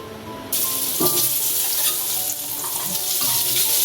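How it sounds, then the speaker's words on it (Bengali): Steady, loud sizzling of diced potatoes frying in hot mustard oil, with a clatter of a utensil and a brief stir partway through. "এবার আলুগুলো ভেজে নেব।"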